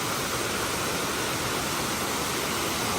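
Steady broadband roar of the Uma Anyar waterfall, a continuous dense rush of falling water at close range, loud and unbroken with no voices.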